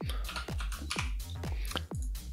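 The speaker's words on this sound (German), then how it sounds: "ich tippe jetzt was ein" Typing on a computer keyboard during colour-correction work in DaVinci Resolve 17, a quick regular run of sharp key clicks close to the microphone, with no speech.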